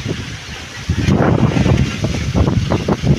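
Strong wind buffets and roars in gusts, rumbling low and loud, surging harder after the first second and staying blustery.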